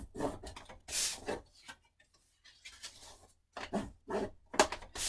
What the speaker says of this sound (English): So now you'll have 3 pieces that we're going to fold and burnish.